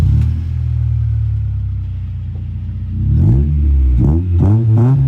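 A Honda car with an aftermarket exhaust idles loud and deep after a warm start, then gets several sharp revs near the end, each rising and falling quickly.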